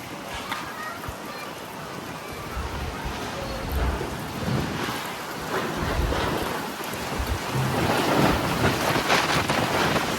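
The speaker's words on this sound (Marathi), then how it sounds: "वारं सुटलंय जोरात." A strong wind blows in Talegaon during an unseasonal rain and thunderstorm, a loud, continuous roaring rush with gusts swelling and easing throughout.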